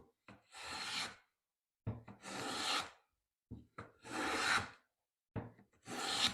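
A scrub plane's blade shaves the dirty surface off a wooden board in four long, close rasping strokes, each separated by a short silent pause.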